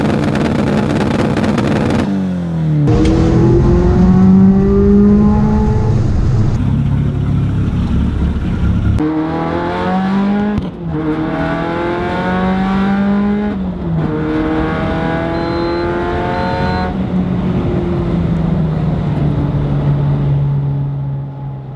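A Mitsubishi Evolution 5 rally car with a built 2.5-litre engine revs hard from inside, climbing in loud, repeated sweeps that drop sharply at each gear change, with no talk.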